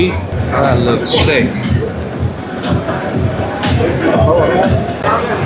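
A dense crowd at the GITEX Global tech expo in Dubai fills the hall with a steady murmur of overlapping voices and shuffling, loud and continuous throughout.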